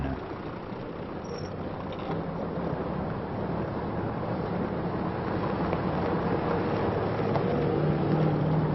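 A column of hundreds of vehicles stretched over 40 km of stony, thorny desert tracks and dunes, heard as a steady, continuous engine rumble and road roar at moderate distance with no clear breaks.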